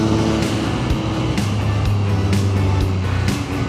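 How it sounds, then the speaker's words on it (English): A 2023 Triumph Street Triple 765RS motorcycle with an Akrapovic exhaust rumbles loudly and close, its engine note rising and falling with short revving pulses throughout. "this bike sounds awesome"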